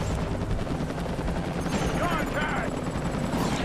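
Dense helicopter rotor thumping and roaring engine noise in the video game Ultimate Spider-Man, with scattered gunfire bursts, loud and continuous, with a voice speaking over parts of it.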